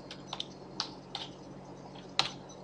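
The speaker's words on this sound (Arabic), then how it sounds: "وابتدي اكتب كلمه لاف" Keystrokes on a computer keyboard while typing a short word into Photoshop, about half a dozen sharp, separate taps spaced unevenly, close and clear over a faint background hum, with no speech.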